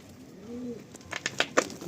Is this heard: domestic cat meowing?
no